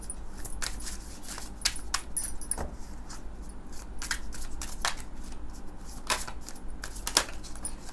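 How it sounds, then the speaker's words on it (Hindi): Tarot cards are shuffled and drawn by hand, giving a series of sharp, close papery snaps and riffles at irregular intervals over a quiet room background. "मैं आपके लिए एक कार्ड निकालना चाहूँगी।"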